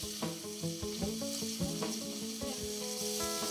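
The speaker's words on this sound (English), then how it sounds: "you want to let them cook like this on medium heat" Calamari sizzles steadily in a pan on medium heat, a continuous close frying hiss with faint pops and occasional stirring clatter underneath.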